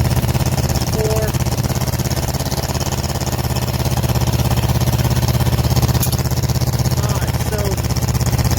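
A Kawasaki Vulcan S 650 motorcycle with a DIY-modified exhaust runs steadily close by, a loud, throbbing engine note throughout with little rise or fall, no voices.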